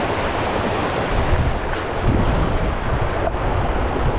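A river flows fast and hard at a dam-like spot, giving a loud, broadband rushing roar mixed with wind buffeting on the microphone, steady throughout with no voices.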